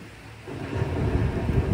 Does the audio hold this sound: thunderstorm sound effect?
yes